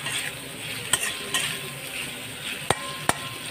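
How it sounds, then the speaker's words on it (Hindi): Paneer is stirred in a frying pan for a black pepper paneer dish: a low sizzle under a few sharp spatula clicks against the metal, spaced irregularly, with no speech. "पनीर को एक साथ मिला देंगे।"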